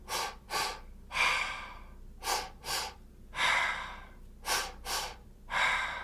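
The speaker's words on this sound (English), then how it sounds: "you're going to inhale to the upper chest and then the bottom of the chest." Close, audible breaths in a two-stage breathing exercise, quick double inhales into the upper then lower chest followed by longer exhales, repeated in a steady pattern with no talking.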